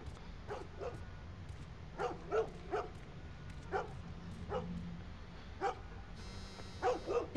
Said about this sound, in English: I hear, like, dogs barking.